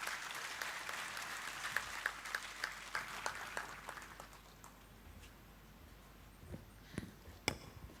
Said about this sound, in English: Let's once again have a huge round of applause to Shri Rahul V. Karad sir